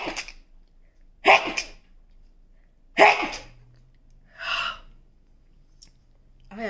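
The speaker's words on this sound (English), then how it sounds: "I have no idea how many sneezes that was" A person sneezes repeatedly and close up, four sharp sneezes separated by quiet breathing pauses, each with an audible inhale before it, in a quiet indoor room.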